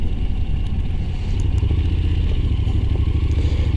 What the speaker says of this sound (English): Another great thing, as I can show you now, is the engine braking, which is huge.